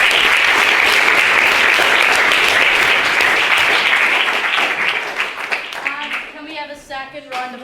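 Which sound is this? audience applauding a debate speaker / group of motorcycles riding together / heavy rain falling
audience applauding a debate speaker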